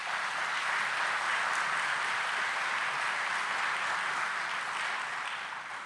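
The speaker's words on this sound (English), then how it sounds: "please give her a round of applause" Applause from an audience at the outdoor groundbreaking ceremony for the new Douglas, Arizona commercial port of entry: dense, steady clapping from a sizeable crowd, sustained at full strength throughout and tapering slightly at the end.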